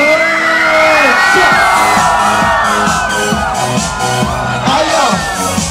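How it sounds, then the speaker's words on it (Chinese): A loud crowd at a temple fair performance in Taipei screams, cheers and whoops continuously under amplified music, with shouts rising and falling throughout. "尖叫声"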